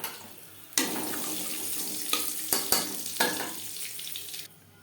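Panch phoron and bay leaves dropped into hot oil in a wok already used for frying fish, giving several sharp bursts of crackling sizzle that settle into a steady frying hiss before cutting off.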